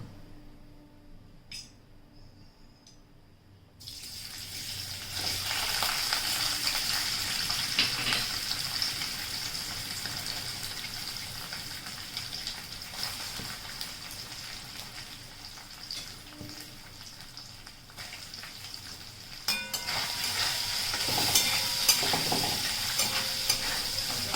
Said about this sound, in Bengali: এখন আমি ভেজে নেব পনিরগুলো।